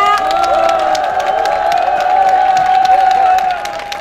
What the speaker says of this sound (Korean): 조경태 의원님께 힘찬 응원의 박수 부탁드립니다